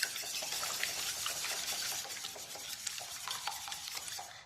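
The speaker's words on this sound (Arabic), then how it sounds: "نخلطوا البيض مليح" Eggs for a cake batter are whisked briskly in a bowl, a quick rhythmic clicking and sloshing that carries on steadily and close up without any talk.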